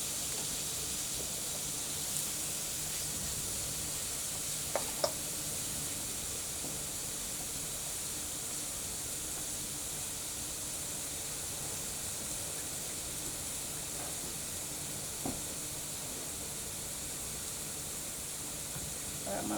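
Thin strips of chicken and bacon sizzle in a pan for a carbonara, a steady broad hiss that runs unbroken throughout with a few faint clicks.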